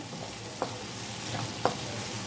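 Stir-fried sausage in sauce is mixed in a pan over a steady sizzle, with two distinct spatula scrapes standing out against the frying hiss.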